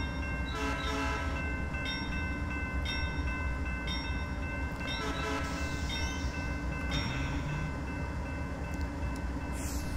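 Southern Pacific AC4400CW diesel locomotive in Train Simulator Classic: a steady loud engine drone with rail clatter, and recurring horn blasts sounding several times across the run.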